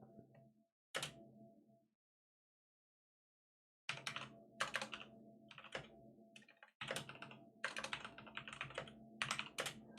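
Computer keyboard typing in quick bursts of crisp, clattering keystrokes, close and fairly loud, broken by a full pause of about two seconds before heavier, denser typing resumes, with no voices.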